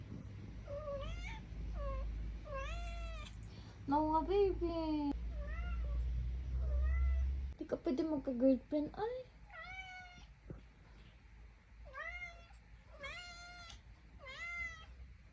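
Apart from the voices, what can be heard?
cat meowing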